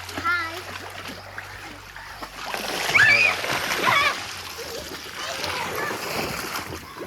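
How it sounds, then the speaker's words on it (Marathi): Water gushes and splashes continuously into a resort swimming pool while children chatter and call out nearby. "स्विमिंग पूलमध्ये पाणी नव्हतं आपण पाणी सोडलेलं आहे"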